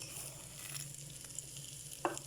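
Garlic sizzles in melted butter, a steady close crackle and hiss with a few sharper pops near the end, no voices over it.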